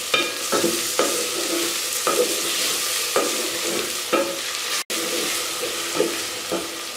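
Tomatoes frying with chana and bitter gourd in a pan, a continuous close sizzle broken by regular scraping stirs about once a second, with no voices.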